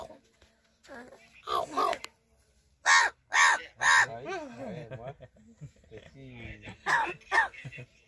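A crow caws harshly in short bursts, some rasping and cough-like, with people talking quietly between the calls.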